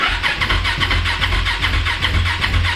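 A 701 motorcycle engine being started after a crash, cranking and catching in a steady, loud, close rhythmic churn that runs throughout without settling, no voices over it.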